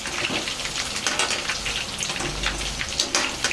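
Soya chunks (meal maker) deep frying in hot oil, giving a steady crackling sizzle with small popping bursts throughout, close and fairly loud, no voices.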